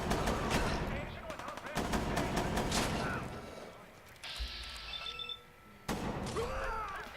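10mm pistol shots in the video game Fallout 4, a series of sharp close bangs and bursts mixed with impact thuds and game noise, with a voice talking over parts of it.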